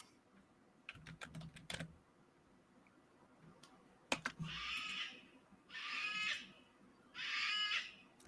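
Crow-like birds squawk in three harsh, raspy bursts about a second long each, moderately near, following some clicking keyboard typing at the start.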